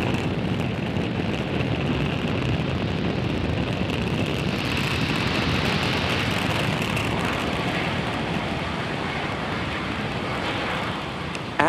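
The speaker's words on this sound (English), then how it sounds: "Falcon 9 has successfully lifted off from Slick 40 carrying the Türksat 6A satellite" A SpaceX Falcon 9 rocket lifts off from SLC-40 carrying the Türksat 6A satellite, its engines a dense, steady, loud roar that holds unbroken throughout.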